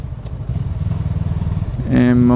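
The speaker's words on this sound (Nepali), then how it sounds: "बाइक दबाइदिउँ" A motorbike engine rumbles steadily in traffic in Korea, then its pitch climbs sharply as it revs and accelerates near the end, loud and close.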